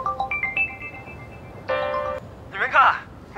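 A mobile phone rings indoors with a melodic electronic ringtone in short tonal phrases, fairly close, while people talk briefly.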